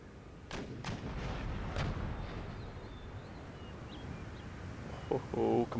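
Artillery fire in the Empire: Total War strategy game, a few heavy booms rolling out near the start and in the middle over a low battlefield rumble, with a voice coming in at the end.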